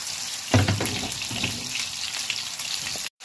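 Chicken kofta frying in a pan with two spoons of oil and splashed onion-pepper water, a steady loud hiss and crackle with a sharper sizzle burst near the start, cut off abruptly at the end.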